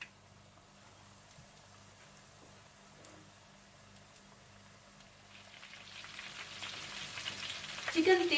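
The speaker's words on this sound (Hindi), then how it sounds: "चिकन तेल में डालने के बाद आपने इसके अंदर एकदम से चम्मच नहीं चलाना और इसे हल्की आंच पर पकाना है।" Flour-coated chicken drumsticks fry in hot oil over a low flame, a soft, steady crackle that stays quiet at first and then swells into louder bubbling toward the end, heard alone and up close.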